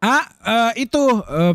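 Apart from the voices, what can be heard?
None of the usual background noises is heard.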